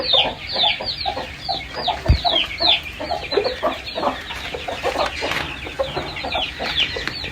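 Aseel hens clucking steadily in a farmyard, a dense run of repeated close clucks and short calls that keeps going throughout, with no talking.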